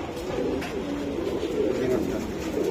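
Racing pigeons in a loft coo in a steady low murmur, several birds overlapping continuously and fairly close throughout, with faint background voices.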